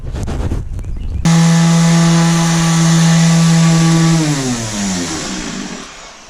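A power sander works the gel coat on a Cape Dory sailboat hull: brief rustling, then a loud close motor whine that holds steady before dropping in pitch as it spins down.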